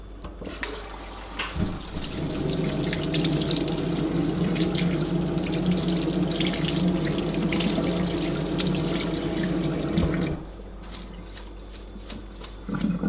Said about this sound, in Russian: Теперь его надо помыть